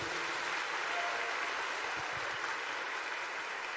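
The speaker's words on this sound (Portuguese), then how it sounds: "Vamos aplaudir o nosso Deus maravilhoso." A church congregation applauds at a Portuguese-language worship seminar, a dense, steady wash of clapping from many hands holding at an even level, moderately distant and filling the whole stretch.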